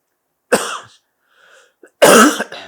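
Two harsh, close coughs separated by a short pause, the second one louder and longer.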